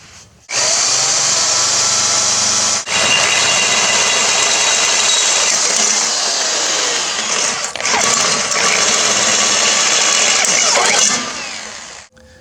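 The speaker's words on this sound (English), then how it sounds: "So my 2 holes are drilled" A power drill bores through a sheet metal bracket for a hitch on a tiller, a loud, close, high whine running in two long passes with a brief pause between them.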